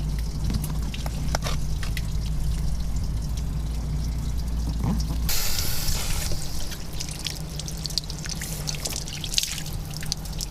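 Water drains from an RV holding tank through the opened low point drain of a Geo Pro 19FBS travel trailer, a steady pouring trickle that runs continuously for the whole stretch, with a brief louder rushing burst midway.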